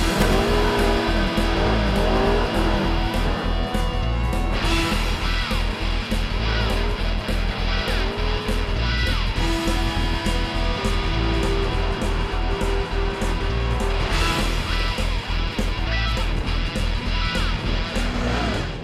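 Turbocharged Can-Am Maverick X DS four-wheeler with a 1000cc engine, 121 horsepower, roaring steadily as it drives, loud and close throughout with continuous revving and shifting engine tone.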